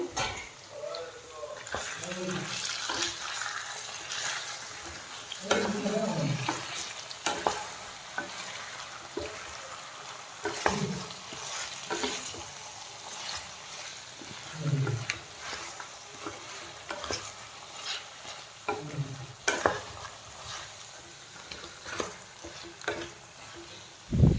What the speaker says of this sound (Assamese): আকৌ এবাৰ লৰাই দিওঁ